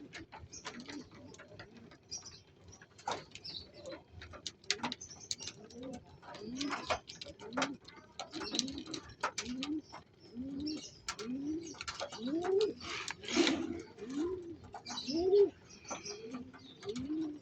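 Racing pigeons coo softly in repeated low, rolling calls, several birds overlapping, with occasional clicks and rustles around them.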